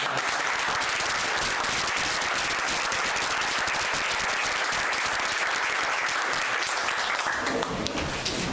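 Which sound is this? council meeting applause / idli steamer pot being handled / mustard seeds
council meeting applause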